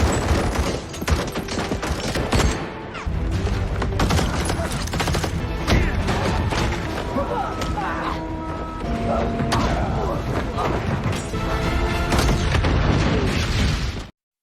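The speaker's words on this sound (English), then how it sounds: "another firefight erupts" A movie firefight on a remote snowbound road, with dense, continuous bursts of gunfire and booms that run steadily for about fourteen seconds under a busy, loud mix before cutting off abruptly.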